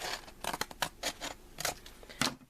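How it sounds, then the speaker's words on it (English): Scissors snip off the sticky flap of a paper envelope in a quick run of crisp, quiet cuts, close by and with no voices. "the first thing we have to do to our envelope is cut off the sticky part, the part that you would fold down to clasp"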